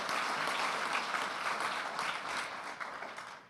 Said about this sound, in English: let's have a round of applause for today's civil servants in this room and elsewhere